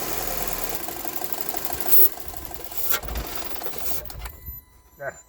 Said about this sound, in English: It's really wanting to stall.